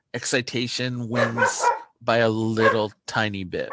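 Dog barking in the background of a lecture, heard under continuous close speech from a lecturer in a room.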